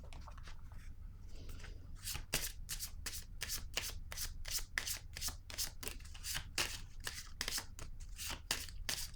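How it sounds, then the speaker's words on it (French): Tarot cards are handled and laid down one after another in a quick, steady rhythm of crisp snaps and shuffles, close and fairly quiet, with no voices. "je vais déposer une autre carte sur elle."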